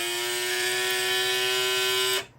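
A small fischertechnik electric motor running clockwise, a steady close electric whine and hum that holds constant for about two seconds, then abruptly stops and spins down.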